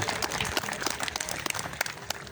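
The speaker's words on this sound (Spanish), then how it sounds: "Demos un fuerte aplauso." Audience applause at a community event, dense sustained clapping from a crowd at a moderate distance with sharp individual claps standing out.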